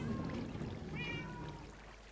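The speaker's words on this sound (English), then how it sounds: "I can hear a cat" A cat meows in a video game where the player is chopping down trees, a few thin mewing calls around the middle, faint and distant over a steady low background rumble.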